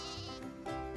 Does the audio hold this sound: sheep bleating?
yes